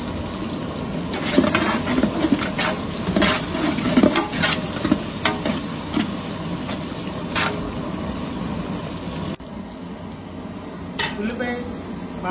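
Onion, potato and carrot frying in a pan for veg biryani, a steady close sizzle with scraping stirs and clinks, the sound dropping quieter near the end.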